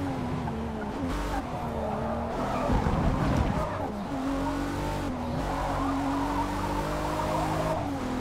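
A BMW Z4 M40i in the Forza Motorsport racing game circling Circuit de Barcelona-Catalunya, a continuous loud engine drone rising and falling through gear shifts with tire squeal in the corners, under someone talking.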